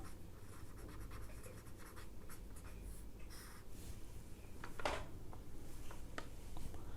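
Chalk or marker scratching on a board during a geometric progression lecture, faint scattered strokes over room noise with a sharper scrape near the middle.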